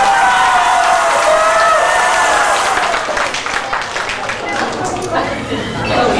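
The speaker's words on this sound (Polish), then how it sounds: "Duże brawa na Pani młodej." Wedding guests applaud the bride at a Polish wedding reception, a loud sustained wash of clapping and crowd noise over about six seconds, with cheering and chatter mixed in.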